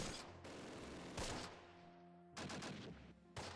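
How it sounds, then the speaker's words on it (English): Artillery strike in the WWII strategy game Close Combat: Wacht Am Rhein: several loud, sharp blasts at irregular intervals, each a broadband crack with a brief rumbling tail, alongside steady low tonal hums from the game's ambience. "Oh boy, here comes artillery."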